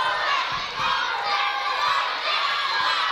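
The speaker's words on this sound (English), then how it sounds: "Crowd letting Ashley Vega know they don't approve of these underhand tactics" A crowd at a pro wrestling show jeers at Ashley Vega, a dense roar of booing and shouting voices, loud and sustained throughout, rising and falling in waves.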